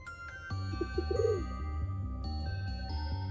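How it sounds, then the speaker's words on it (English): A pigeon in the video game Darkside Detective coos in a short series of soft warbling notes over a looping musical background. "Nosy pigeon. Cuckoo, other pigeon noises."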